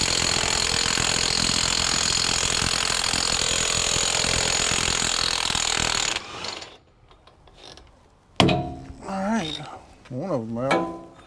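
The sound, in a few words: air impact gun loosening a parking brake bolt on a combine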